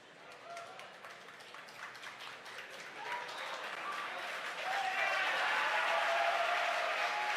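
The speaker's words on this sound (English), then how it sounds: "Hear the crowd cheer behind me." A crowd cheers and claps during a rocket booster's entry burn, faint at first and then swelling louder and more sustained toward the end, with a commentator speaking over it.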